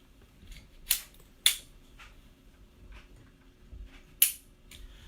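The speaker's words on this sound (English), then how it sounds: "that click is the firing pin activating the primer and then firing the shot" A pistol dry-fired on a snap cap gives a few sharp, isolated metallic clicks with quiet gaps between, close and crisp, with faint handling noise and no speech.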